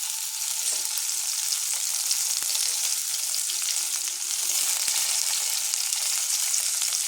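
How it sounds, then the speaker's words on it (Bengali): Potato pieces lightly frying in oil for aloo dum give a continuous close sizzle, an even bright hiss with faint crackles and no voices. "আলুটা আমি দিয়ে দেবো। এটা আমি হালকা করে ভেজে নেব,"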